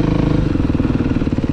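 A supermoto motorcycle engine runs close up with a rough, throbbing low-pitched pulse, a steady loud drone without clear revving.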